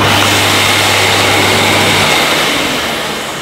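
An AEG Vampyr Chroma vacuum cleaner runs on its full 1400 setting, a loud, close, steady motor whine and airflow rush with a low hum that drops away after two seconds as the sound eases slightly.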